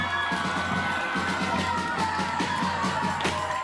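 High school football crowd cheering on a Friday night after a touchdown ties the game, a loud, continuous roar of mixed shouts and whoops from many people.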